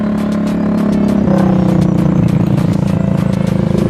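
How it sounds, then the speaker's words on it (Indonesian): A motorcycle engine idles and revs nearby with a rough, pulsing rumble, rising in pitch partway through amid traffic noise. "ini berisik deh motor yang di depan dulu"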